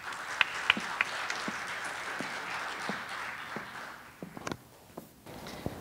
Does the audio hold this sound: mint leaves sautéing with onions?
no